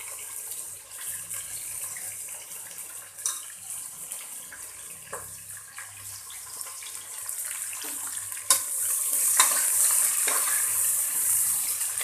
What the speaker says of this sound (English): You need to fry this onion until and unless it becomes golden